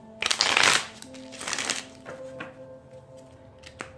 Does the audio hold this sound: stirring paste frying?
no